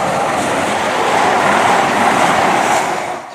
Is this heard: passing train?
yes